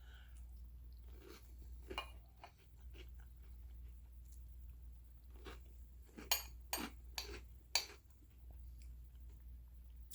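Someone eats crunchy berry cereal with marshmallows in milk, giving close, quiet, irregular bursts of crunching with a few louder bites.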